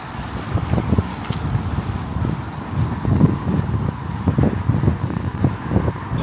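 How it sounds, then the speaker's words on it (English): Steady wind buffeting the microphone on a Manchester city street, a low rumbling roar with gusty swells that never lets up. "Apologies for the wind, it's a bit blowy today."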